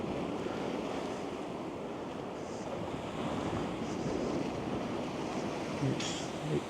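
Big sea waves break against a sea wall on a windless day, a continuous loud, close roar of surf and churning water that holds steady throughout, with no voices.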